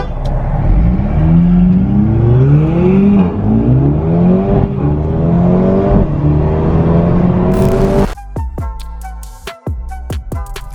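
A Mercedes A35 AMG and an Alfa Romeo 4C accelerate hard onto a motorway, loud close engine roar rising through several gear changes, followed by sharp crackling pops and bangs from the exhaust as the throttle lifts.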